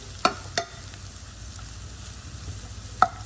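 Onion softens in a pan with a faint, steady sizzle, broken by a few sharp clicks and pops of cooking utensils, with no one talking.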